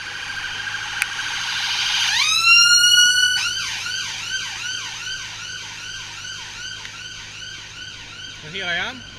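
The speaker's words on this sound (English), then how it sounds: "You'll hear the siren just very, very shortly." A loud siren sweeps up, then settles into a fast repeating wail that carries on steadily, with a brief different tone near the end.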